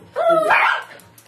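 A puppy lets out a single short, high yelping bark, close and clear in a quiet home at dinnertime.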